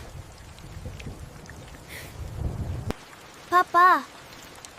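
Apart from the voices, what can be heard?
heavy rain with thunder, cartoon storm scene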